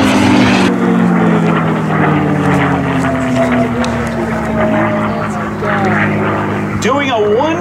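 A radio-controlled P-51D Mustang model airplane roars overhead at the 2013 Plymouth, Massachusetts air show, its engine droning loudly with pitch sweeping as it dives past, while an announcer talks over it.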